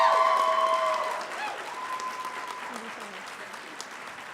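Audience applause for Dr. Judy Healy-Walsh at a fall college nursing pinning ceremony, a dense crowd clapping that fades gradually over a few seconds, with some tonal sound and faint voices mixed in early.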